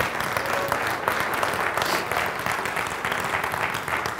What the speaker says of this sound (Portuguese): Pode aplaudir a Jesus, se é para Ele.